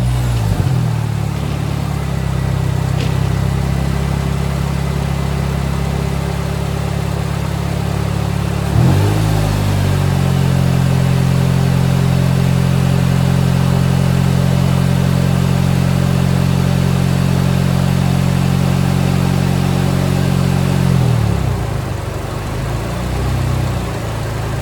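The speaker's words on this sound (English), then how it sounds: "Let's start it up and show y'all how it runs." A K-swapped Honda EG car engine runs at a steady, loud idle with a deep, even drone. Around nine seconds there is a brief bump in the sound, after which it settles into a smooth, constant run. No one speaks.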